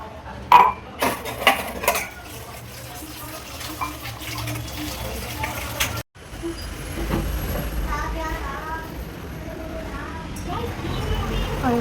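Cups and dishes are being washed at a kitchen sink. A few ceramic clinks come early on, then water runs steadily from the tap, with soft clatter under it.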